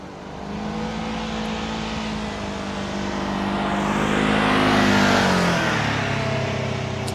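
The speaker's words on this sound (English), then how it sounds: "it's a four-wheeler passing by" A four-wheeler car drives past, its engine hum rising as it nears, peaking loud around the middle, then dropping in pitch and fading as it moves away.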